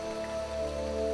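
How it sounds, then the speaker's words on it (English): Rain falls steadily in the game Starbound, a constant patter blended with sustained ambient music tones, alone and unbroken for a short stretch. "It is raining out here."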